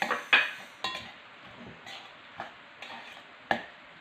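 Banana peel nugget mixture stirred with spices in a bowl, giving soft wet scraping and a few sharp utensil clinks against the bowl at uneven intervals, close and alone.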